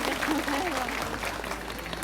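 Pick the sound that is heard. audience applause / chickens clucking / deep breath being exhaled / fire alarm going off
audience applause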